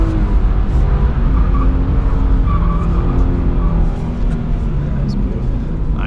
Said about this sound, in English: It is a little bit more challenging drifting in the wet.